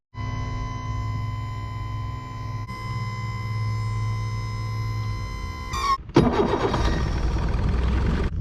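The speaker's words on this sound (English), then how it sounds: "the engine's running." A fishing boat engine turns over and catches, a sharp burst followed by a loud, steady running rumble, preceded by sustained electronic tones.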